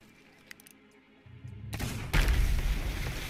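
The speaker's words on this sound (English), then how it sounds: "The boat shook. Explosion." A video game explosion rocks a boat, beginning as a quiet rumble and then swelling into a loud, sustained booming blast that crackles and roars to the end.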